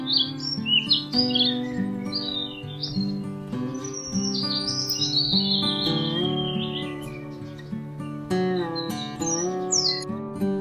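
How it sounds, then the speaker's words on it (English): A bird calls in repeated squawks and chirps, loud and close, laid over a continuous melodic music bed with no voices. "This is bird."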